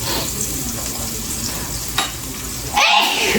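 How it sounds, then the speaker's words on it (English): Garlic sautéing in olive oil and butter in a pan, a close steady sizzle with a brief clink of stirring and a louder burst of crackling near the end. "Garlic, olive oil, and butter. Sauteing."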